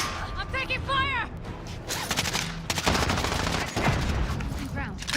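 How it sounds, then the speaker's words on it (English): Rapid gunfire from the video game Call of Duty: Warzone, dense bursts and overlapping shots running through most of the clip, with players' voices talking over it. "I'm taking fire!"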